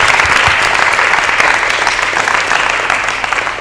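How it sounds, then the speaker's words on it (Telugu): Loud, sustained applause from a studio audience at a Christian youth television talk show on God's call. Steady dense clapping runs throughout with no speech. "మరోసారి అందరం గట్టిగా చప్పట్లతో అభినందించుదాం."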